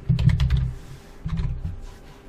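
Close, quick keystrokes on a computer keyboard as a username and password are entered, two short bursts of tapping separated by a brief pause.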